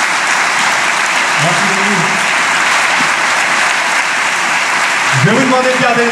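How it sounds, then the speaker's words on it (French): Steady, loud applause from a comedy show audience fills the space continuously, with brief voices rising through the clapping near the start and again toward the end. "Je vais vous demander de garder les applaudissements."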